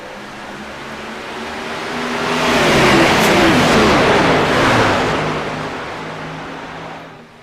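A pack of race cars accelerates at a green-flag restart at Daytona in a racing video game, the engine roar swelling as the field passes close by, peaking loudly midway, then fading away.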